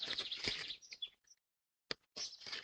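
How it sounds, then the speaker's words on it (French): A small bird chirps faintly in a few short bursts of quick tweets, with a brief silent gap between them. "Une oiseaux qui vole."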